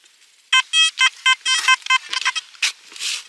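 A metal detector sounds a run of short electronic tone bursts, some steady and some warbling, loud and close, with brief gaps between them and no voices.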